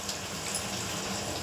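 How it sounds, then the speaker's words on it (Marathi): Water is poured into besan (gram flour) in a bowl, making a brief, steady splashing rush at moderate level with no speech. "बेसन पीठ मी बाउलमध्ये ओतून घेते आणि त्याच्यामध्ये पाणी टाकून"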